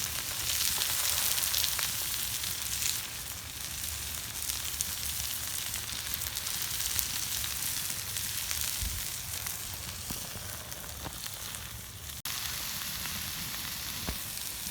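Fajita meat and vegetables sizzling on a grill over a campfire on a mild evening outdoors, a steady bright crackling hiss with occasional pops, fairly faint and continuous with no voices.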